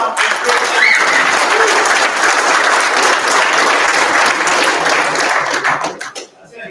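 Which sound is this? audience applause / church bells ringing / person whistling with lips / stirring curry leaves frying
audience applause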